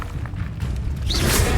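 The Incendio fire spell cast in Hogwarts Legacy: a loud, dense roar that swells into a brighter whooshing burst toward the end, with no speech.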